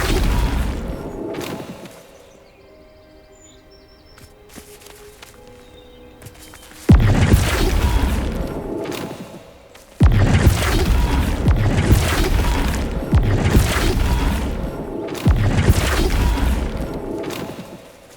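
Spell effects from Hogwarts Legacy on PC: the Flipendo charm unleashes loud booming, crashing bursts, a quiet lull giving way to sustained thudding impacts in repeated waves.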